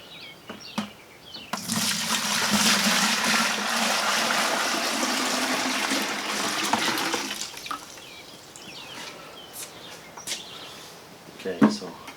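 Water pours into a chicken water cooler in a steady, loud rushing stream lasting several seconds, then tapers off into quieter drips and small handling noises.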